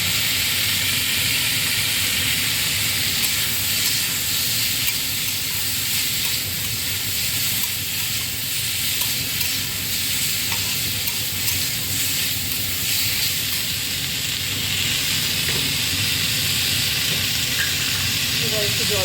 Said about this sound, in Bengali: জল ঢেলে দেবো